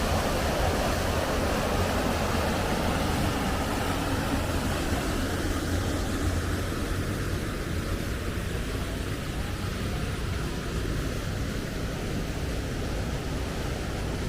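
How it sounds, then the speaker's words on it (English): The Strid, a narrow Yorkshire river squeezed between rocks, roars in a steady, loud broadband rush of fast water that holds constant throughout, with no voices. "Here we have the Strid, world's deadliest river."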